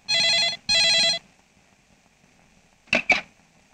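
A telephone rings in two long electronic bursts, pauses, then gives two short chirps, close and clear with no talk.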